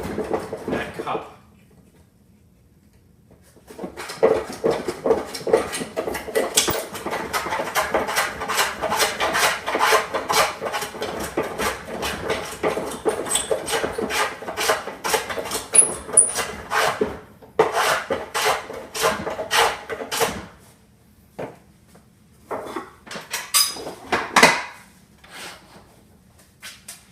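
Wooden No. 4.5 hand plane flattening a cupped board, a long run of rapid rasping strokes close by, then a pause and a few more scattered strokes near the end.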